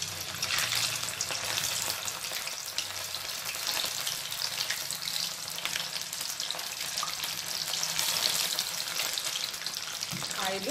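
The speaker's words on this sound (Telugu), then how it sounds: "ఇప్పుడు మనం మిక్స్ చేసుకున్న ఈ స్వీట్ కార్న్ని ఇలా ఆయిల్లో వేసేసుకోవాలి." Mixed sweet corn fries in oil over medium flame, a continuous loud crackling sizzle close at hand that holds steady for several seconds without any voices.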